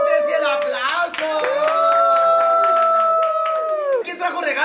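Applause at a tenth birthday: a small group claps over about four seconds while children's and adults' voices and cheering carry loudly over the clapping.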